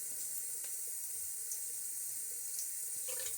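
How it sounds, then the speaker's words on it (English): Tap water runs steadily into a sink and splashes as a face is wetted before a wet shave, a soft continuous wash of water with no talking. "And I will get a little bit of water on my face here"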